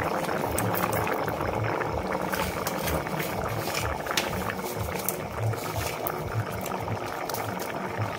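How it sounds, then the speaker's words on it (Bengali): Vegetable daliya khichuri with potato, carrot and spinach boiling in a pot on a home stove, a steady close bubbling and simmering that runs without a break and with no talk. "খিচুড়িটা আমার ফুটে গেছে"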